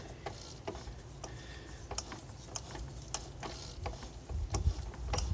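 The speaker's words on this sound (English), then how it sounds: "hand turn the lathe chuck so that the tap is feeding right into the subject piece" A tap cuts threads into a workpiece held in a lathe chuck turned by hand, making a steady series of close metallic ticks and ratcheting clicks with light grinding underneath, no voices.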